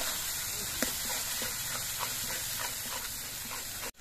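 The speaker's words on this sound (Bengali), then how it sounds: "এবার এর মধ্যে দিয়ে দিচ্ছি আমি যে পেঁয়াজ রসুন ভেজে বেটে নিয়েছিলাম সেগুলো। এবার এগুলো দিয়েও একসঙ্গে কষিয়ে নিতে হবে।" Fried onion and garlic paste sautéing in a pan gives off a steady, moderately quiet hiss and sizzle, with small crackles scattered through it, before cutting off abruptly at the end.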